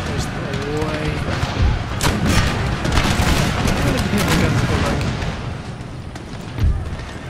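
Booming artillery cannon volleys roll through a battle in Empire: Total War, dense and continuous with heavier thuds rising near the end, while someone talks over the din.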